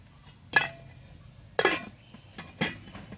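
A lid clinks onto a pot of beans cooking over a campfire, three sharp metallic clanks spaced about a second apart over quiet outdoor background.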